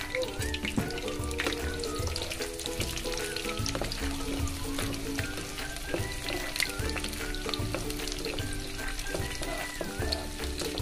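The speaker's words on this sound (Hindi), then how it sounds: "सबसे पहले हम ये प्याज डाल देंगे। ये हमने फ्राई करनी है" Chopped onions fry in a pan for a stuffed brinjal masala, giving a steady, close sizzle with faint crackle that runs unbroken through the whole stretch.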